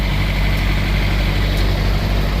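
A 25-year-old Freightliner semi truck engine idles close by, a steady low diesel rumble with a faint ticking texture running evenly throughout, no voices.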